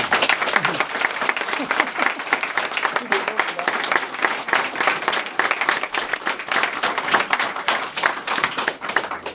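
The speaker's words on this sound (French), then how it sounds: "Sous vos applaudissements." Wedding guests at a civil marriage ceremony break into lively, continuous clapping, a crowd of hands close by with an energetic, slightly uneven rhythm that carries on throughout.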